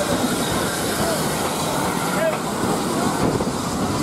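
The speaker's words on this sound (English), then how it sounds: "Yeah, the train's just appeared." A train arrives on the Bluebell Railway heritage line, a loud steady rolling rumble with rail noise sustained throughout, and a faint squeal briefly rises partway.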